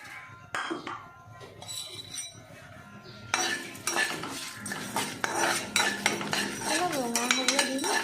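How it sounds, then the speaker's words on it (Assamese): Spices fry in a kadai while a metal spoon stirs them, producing repeated clinks and scrapes against the pan over a faint sizzle, close and busy, with a voice briefly audible near the end. "এতিয়া মই মছলাখিনি এটা কেৰাহী ভাজি ল'ম।"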